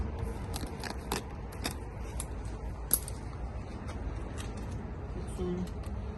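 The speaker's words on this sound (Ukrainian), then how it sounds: "Відрізаю шматочок." Scissors snip a strip of repair tape for patching a greenhouse cover underwater, giving a few sharp close clicks and short cuts spread over a quiet, faintly rumbling background.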